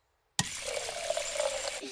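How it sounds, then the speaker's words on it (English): Water gushing steadily from a drinking fountain in a Peppa Pig cartoon, a sudden onset followed by a continuous close splashing stream that runs for over a second before tapering off. "Daddy Pig is drinking from the water fountain."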